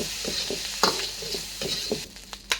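Isan sausage fried rice, two servings with fish sauce, stir-fried in a pan: steady close sizzling with repeated scraping and tossing strokes of the spatula, no talking.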